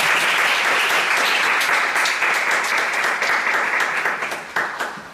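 An audience claps loudly and steadily to welcome a speaker at a Thursday church worship service, the applause full and continuous before gradually thinning out at the end.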